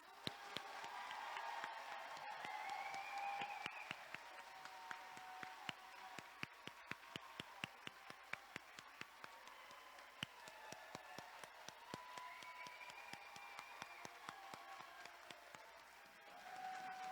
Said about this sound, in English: please join me in a round of ruckus applause for our graduates.